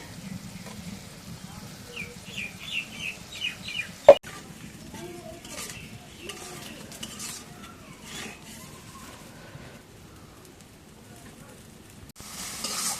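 Spice paste with garam masala and salt sizzles softly while being stirred and sautéed in a pan for Bengali meat curry, a quiet steady crackle with occasional scraping, a sharp clink, and someone talking over it.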